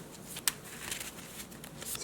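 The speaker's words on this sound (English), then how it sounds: "So getting all shuffled up right now." A deck of Yu-Gi-Oh! trading cards is shuffled close up, giving soft riffling and sliding rustles with one sharper snap near the start, all quiet and with no talking.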